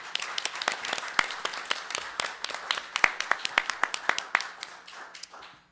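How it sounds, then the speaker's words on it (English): Scattered clapping from a modest crowd at a school district board meeting, distinct sharp claps at an uneven rhythm, fairly close and clear, tapering off near the end. "So I think that deserves a big round of applause."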